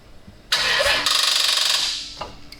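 A cheap, high-mileage 200,000-mile Toyota Supra with a weak battery cranks and fires up, then a loud, steady engine roar settles in close by before dropping away at the end.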